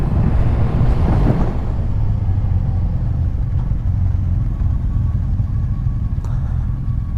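Motorcycle riding along secondary country roads on an autumn ride with friends, with a steady, loud engine and road rumble running throughout, slightly stronger near the start.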